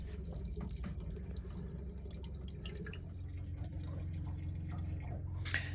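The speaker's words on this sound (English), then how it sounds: "I'm ready to experience a flow of crystal clean drinking water" Water trickles and drips from a galley tap on a boat that is being readied for launch, fed by a newly connected pump. A low, steady mechanical hum sits beneath the faint, irregular drips.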